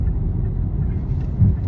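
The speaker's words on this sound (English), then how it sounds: "as I'm trying to see if this car let me in." A car drives past on a busy local road, heard as a steady low engine and tire rumble that swells slightly near the end, with no talking.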